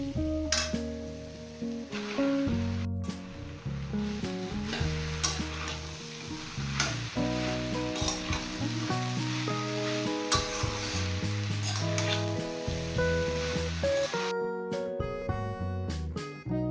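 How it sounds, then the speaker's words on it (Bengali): Grated taro is frying in spiced oil for a prawn-and-taro dish, with steady sizzling and repeated stirring scrapes, while loud, continuous background music plays over it throughout. "এবার দিয়ে দেব গ্রেট করা কচু।"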